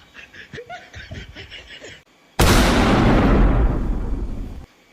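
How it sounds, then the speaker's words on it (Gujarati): Brief chuckling gives way, after a short pause, to one loud, close firecracker burst that roars and rumbles for a couple of seconds before slowly fading out. "બહાર જઈને જોજે કોણ ફટાકડા ફોડે છે"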